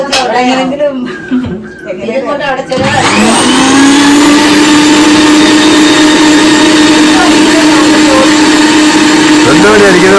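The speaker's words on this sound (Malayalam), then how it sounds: "മോരല്ല മിക്സി അടിക്കുന്നത്" Voices talk briefly, then a mixer grinder starts up churning curd into buttermilk and runs steadily with a loud, close, whirring motor drone for the rest of the clip.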